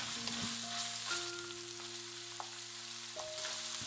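Onion hitting a hot pan with browned lamb and bean paste, giving a steady close sizzle with light stirring scrapes and no talk.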